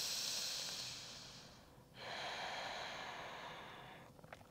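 Slow, steady breathing during a yoga pose: a long soft exhale, a brief pause, then another long airy breath, close and quiet with no talking.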